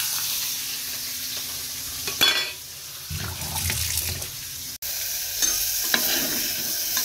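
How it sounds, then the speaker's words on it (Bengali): Four pieces of fish fry in a pan, giving a steady sizzle with stirring and utensil clatter throughout, alone without any voices. "এখন মাছগুলো ভেজে নিচ্ছি।"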